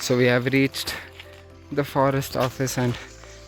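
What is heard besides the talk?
No distinct noise like a dog, phone or traffic.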